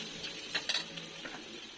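Salt and half a spoon of turmeric powder being fried and stirred in a pan, a soft steady sizzle with a few brief scraping clinks from a spoon, close and quiet, no talking.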